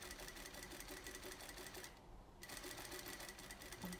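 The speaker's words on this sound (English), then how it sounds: "you're sewing just to the left of your stay stitch, maintaining the half an inch seam allowance" A sewing machine stitches a seam with a steady, rapid mechanical chatter, pausing briefly midway before running on again, close and fairly quiet.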